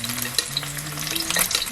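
Sunny side up eggs frying in oil in a pan, a steady close crackling sizzle with small pops throughout, no talking.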